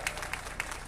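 Sparse, scattered claps ring out from a small crowd at a foundation-laying ceremony for a Chhatrapati Shivaji Maharaj statue, honouring an engineer; short and fairly faint, a handful of distinct hand claps.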